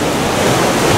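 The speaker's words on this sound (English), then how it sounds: "Oh my god, there's actual waves!" Ocean waves in the survival video game Raft, a continuous loud wash of surf and wind-like noise, steady and close with no voices.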